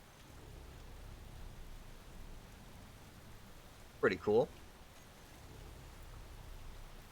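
Steady, soft rain hiss runs throughout in the Space Engineers game, a faint even wash of noise beneath a brief spoken comment in the middle.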